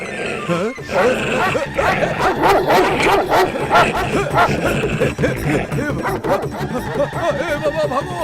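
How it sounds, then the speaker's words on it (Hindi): Dog barking and yelping in a dubbed South Indian film scene, with loud, rapid, agitated barks and whimpers layered over excited voices and commotion throughout. "तुम्हारे बेटे ने और तुमने मिलकर मेरे ऊपर कुत्ता छोड़ दिया"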